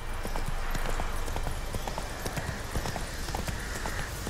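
Roach, the horse in The Witcher 3, gallops in a steady rapid clip-clop of hooves, loud and close, with a continuous rushing background throughout.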